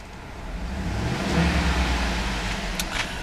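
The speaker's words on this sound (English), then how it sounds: "I'm going to rev the engine." A white 2012 Cadillac Escalade ESV with a 6.2-liter V8 revs once from idle, a low engine rumble swelling and easing back, heard fairly quietly from nearby.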